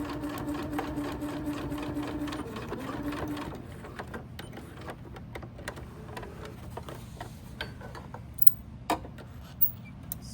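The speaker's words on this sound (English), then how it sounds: "as we're working on finishing up, you do want to remember to backstitch." Sewing machine stitches a messenger bag in a rapid mechanical chatter for a few seconds, backstitching at the end of a seam, then stops, followed by quieter clicks and handling sounds.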